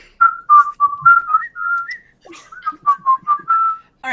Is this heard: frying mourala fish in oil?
no